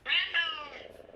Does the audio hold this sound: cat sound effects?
yes